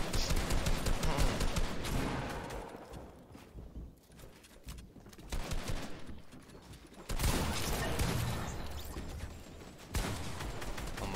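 Pump shotgun fire in a Fortnite match during competitive play: loud, dense bursts of gunfire and battle noise come and go in waves, with a quieter dip in the middle.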